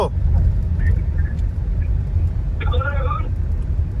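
A car rolls slowly along a hilly road near Belpahari on the way to a barrage, giving a steady low engine and tyre rumble throughout, with a brief voice-like tone rising above it partway through.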